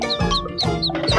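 Cartoon ducks quack in quick succession as they board a bus, with about four bright, nasal calls repeating close together in a lively cartoon soundtrack.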